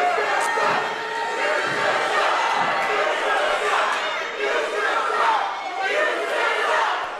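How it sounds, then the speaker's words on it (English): Wrestling arena crowd during a count-out at an SWE Fury TV show, a dense, steady roar of many voices with scattered shouts and jeers, loud and continuous throughout. "The crowd not showing Haas a lot of love here as the count is on"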